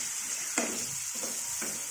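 Green chillies frying in a pan on a low flame for a chilli and peanut chutney: a soft, steady sizzle broken by three quick stirring scrapes.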